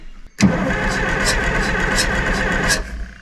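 A Caterpillar D5 bulldozer's heavy diesel engine, previously stuck, cranks and catches, then runs steadily at a loud, rough idle before cutting out near the end.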